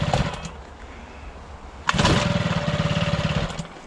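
A 50cc mini bike engine is pulled over and then catches, sputtering into a rapid, uneven two-stroke putter after a sharp start, close and fairly loud.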